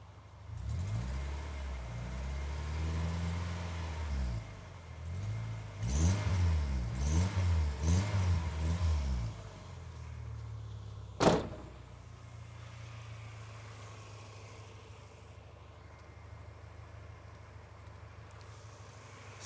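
A Subaru Impreza GC8 WRX with an EJ22 engine idles, then revs up several times in quick succession before settling back to idle, with a brief sharp noise in between.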